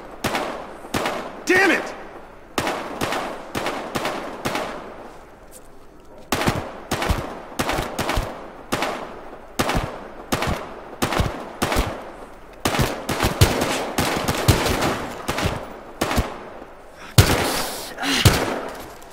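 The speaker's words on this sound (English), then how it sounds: "13 reporting shots fired on Cola Project." Repeated loud bursts of gunfire from a Battlefield Hardline police shootout crackle in rapid clusters, with someone briefly shouting over the shots.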